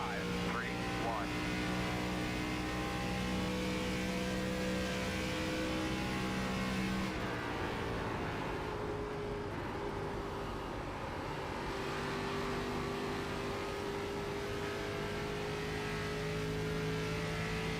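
A race car engine in the iRacing sim holds a steady, droning tone, then shifts pitch partway through as it changes gear and keeps pulling, loud and continuous throughout.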